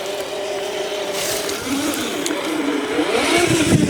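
An FMS FCX10 Chevy Blazer RC crawler drives along with a fast, whining motor and noisy gear drivetrain, a continuous close-up mechanical whirr that rises in pitch and grows a little louder toward the end.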